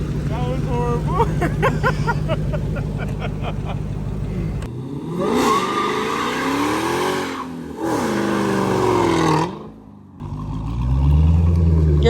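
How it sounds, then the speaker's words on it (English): A Hellcat-engined Mazda Miata spins its tires hard, the engine revving with a loud rising roar and squealing rubber in long bursts, while people talk over the noise nearby. "You're literally just burning tires."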